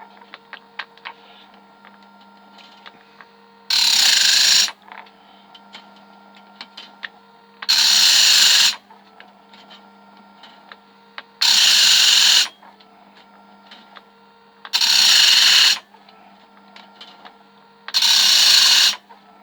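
An Oregon chainsaw sharpener grinds bandsaw blade teeth: five evenly spaced bursts of harsh, high grinding, each about a second long, with a low steady motor hum running beneath and between them.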